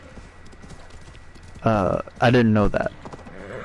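Clip-clop of horse hooves from Assassin's Creed Valhalla gameplay patters steadily at low level beneath a man's speech, with a brief voice heard loudly over the galloping.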